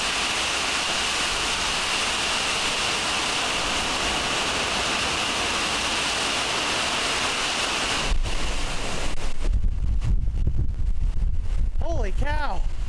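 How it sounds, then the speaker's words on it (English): Heavy rain and wind roar inside a barn as a dense, steady hiss, then the wind surges into deeper, louder gusts, with a voice briefly heard near the end. "it seems like just in time for the rain to really pick up"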